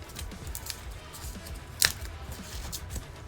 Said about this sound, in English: I'm gonna cut.